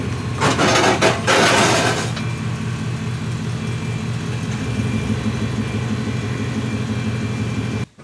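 A 1997 Chevy Silverado C1500 two-wheel-drive pickup rumbles close by as it is driven and turned around on gravel, a low steady engine drone after a brief rougher burst, cutting off at the end.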